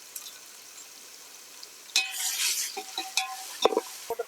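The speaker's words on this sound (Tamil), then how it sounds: "இந்த வெங்காயம் கொஞ்சம் சீக்கிரமா வேகிறதுக்காக கல்லுப்பு கொஞ்சம் போட்டுக்கோம்." Onions fry in a hot pan with rock salt added, stirred as they cook. A quiet lead-in gives way to a burst of sizzling, then scraping, clinking stirs close by.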